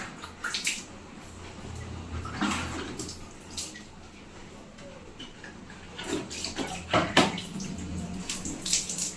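Water is poured over a head during a bath, making faint splashes and trickles in several uneven bursts, louder near the end, with quiet voices in the background.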